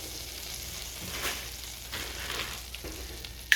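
Melted butter and oil sizzle steadily in a pan for garlic butter shrimp, a close, even frying hiss with soft stirring swells and a light clink at the end.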